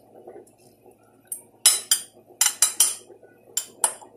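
Metal utensils clink and scrape against a pan as food is stirred and mixed, several sharp clattering strokes in uneven bursts over quiet kitchen background noise.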